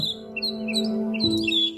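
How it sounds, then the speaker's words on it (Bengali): Small birds chirp in short, bright bursts in the quiet Swiss mountain village of Wengen, over a low, steady hum. "আছে শুধু প্রকৃতির মধুর সুর পাখির কলরব"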